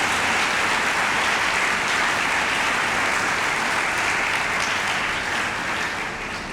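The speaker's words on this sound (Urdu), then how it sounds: "ان کے لیے ایک بار پھر زوردار تالی جائے گی۔" A church congregation at a Sunday Mass for the Feast of the Most Holy Body and Blood of the Lord applauds loudly and steadily for several seconds, tapering slightly at the end.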